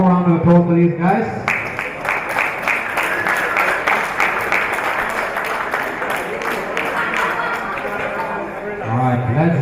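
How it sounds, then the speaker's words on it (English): A crowd at a powerlifting meet applauds the class winners, with steady clapping that starts after an announcer's voice and runs under scattered shouts before talk resumes at the end. "some more round of applause for these guys"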